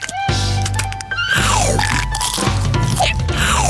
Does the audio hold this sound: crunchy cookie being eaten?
yes